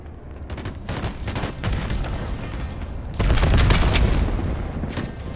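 Heavy rapid drone gunfire with booming impacts from the video game Black Ops 7, continuous and loud, swelling into a denser barrage midway.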